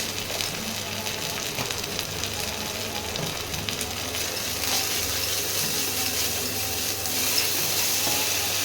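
Spice masala with coriander powder sizzles in oil in a pan for cauliflower butter masala, a continuous moderate frying hiss with faint scraping underneath.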